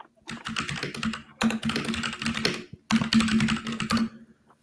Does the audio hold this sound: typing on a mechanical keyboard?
yes